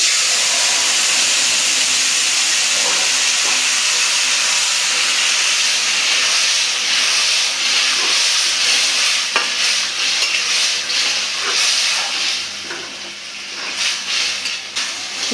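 Onion and dried chili tempering fries in hot oil for a bottle gourd and egg curry, a loud continuous sizzle and hiss with occasional stirring scrapes that grow more uneven toward the end.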